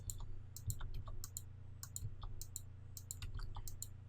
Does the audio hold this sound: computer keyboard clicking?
yes